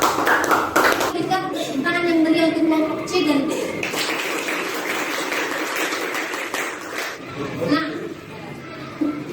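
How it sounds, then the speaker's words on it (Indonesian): A classroom audience claps for student groups C and D after their presentation, the applause starting loud and thinning out while children chatter and voices talk over it. "Berikan tepuk tangan yang meriah untuk kelompok C dan D"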